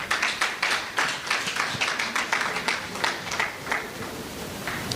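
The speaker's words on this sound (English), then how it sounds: "Please, another round of applause." An audience applauds at a youth awards ceremony, with a steady stream of overlapping claps that fades somewhat toward the end.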